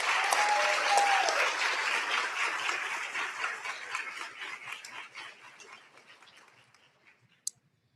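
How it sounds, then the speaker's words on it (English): An audience at a health sciences and nursing pinning ceremony gives a dense round of applause that starts loud and gradually thins out and fades over several seconds. "let's give all of our students one more round of applause."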